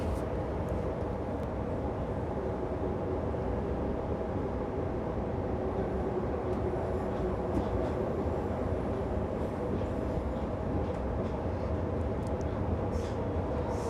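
Sydney suburban train running above ground toward Town Hall, a steady continuous rumble and rail hum with no voices, even loudness throughout.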